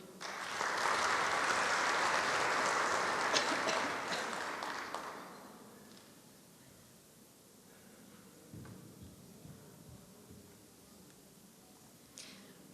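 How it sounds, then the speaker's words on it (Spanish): Loud, dense applause from an audience at a hearing on a humanized childbirth law fills the first few seconds, then tapers away into quiet room tone with faint rustling. "Un aplauso, por favor"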